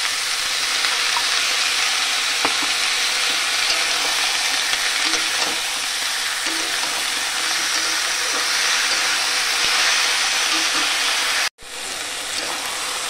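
Ginger-garlic paste sizzles loudly and steadily in an oily pan for a fish and capsicum curry, a dense hiss that cuts off abruptly near the end, then resumes more quietly.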